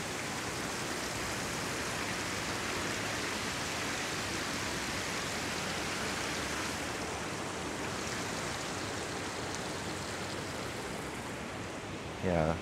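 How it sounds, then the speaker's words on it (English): Water feature fountain in a Tokyo business district: a steady, even rushing and splashing of falling water, loud and continuous throughout, with a brief sound near the very end. "Got a nice kind of water feature thing around here too."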